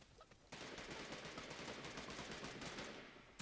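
Rapid, continuous pistol gunfire from the Realm Royale video game, a dense run of shots at steady loudness lasting several seconds after a quiet opening, with no talking over it.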